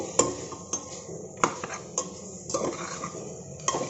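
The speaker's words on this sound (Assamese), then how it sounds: "এইখিনি ঘনাই এইদৰে লৰাই থাকিব লাগিব" Pork is stirred in a pan with no oil, making sharp metallic clinks and scrapes of a utensil against the pan at an irregular rhythm, close and fairly quiet, with a faint sizzle.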